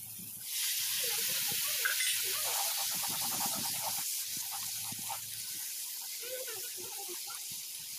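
Chicken pieces and green chillies hitting hot oil in a pan, a loud steady sizzle and hiss that swells near the start and keeps going with faint stirring clatter underneath.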